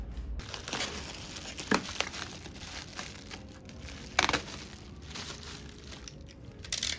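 Crinkling and tearing of a taped-up package being opened, soft steady rustling punctuated by a few sharper rips, quiet and close with no talking.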